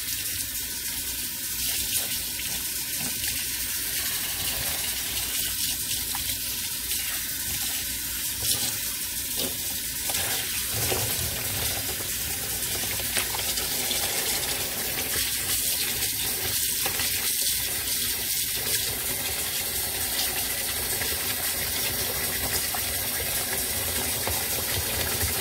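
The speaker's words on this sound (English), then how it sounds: "in the meantime, we are going to rinse our other yarn." Water from a tap runs steadily over hand-dyed yarn being rinsed in a sink, a constant close hiss and splash for the whole stretch with no talking.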